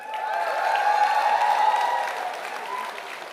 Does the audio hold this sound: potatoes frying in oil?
no